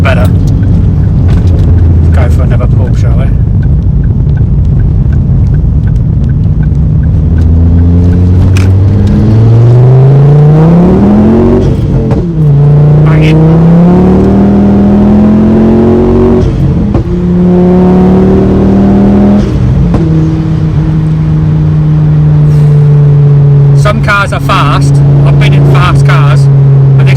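Mk2 Ford Focus ST with a hybrid turbo and a loud aftermarket exhaust pulling hard through the gears, engine note climbing repeatedly with brief gear-change dips, heard from inside the car.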